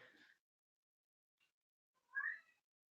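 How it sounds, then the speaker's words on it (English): A cat meows twice, a short faint call and then a clearer, louder one a couple of seconds later, in an otherwise quiet room. "now Nala's meowing"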